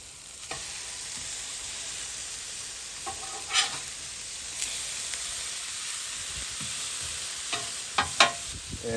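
Smash burger patties sizzling on a Blackstone griddle just after being flipped, a constant loud hiss with scattered clicks and scrapes of a spatula, no talk.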